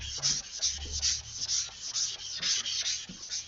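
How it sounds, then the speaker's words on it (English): Wet sanding with 500-grit wet-dry sandpaper on a sanding block, a soft rhythmic scrubbing of quick back-and-forth strokes, close and fairly quiet, with no talk. "Wet dry sandpaper would be a great choice for this application because we are wet sanding."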